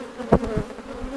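Honey bees buzz during a hive inspection, a steady close drone with a few brief louder passes as individual bees fly near.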